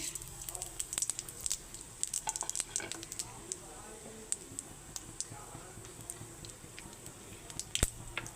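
Black cumin, radhuni and mustard seeds sizzle in hot oil for a silver carp curry, with sharp scattered pops and crackles over a low hiss and a faint voice briefly at the start.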